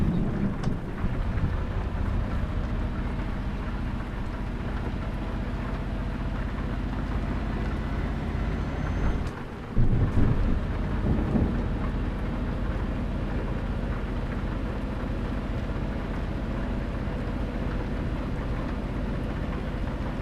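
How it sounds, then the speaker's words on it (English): Rain in Euro Truck Simulator 2 pours as a steady, dense wash over a low rumble, constant for twenty seconds apart from a brief dip and swell near the middle, with no voices. "So you should be able to hear that rain"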